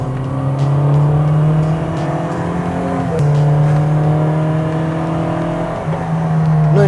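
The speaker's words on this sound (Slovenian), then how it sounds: "tam mi redno priganjamo te stare GTI-je" A first-generation Volkswagen Golf GTI pushed hard along the Osnabrück hill climb course: a loud, close engine revving and holding high rpm, with a sharp gear change midway before climbing again, and no talking.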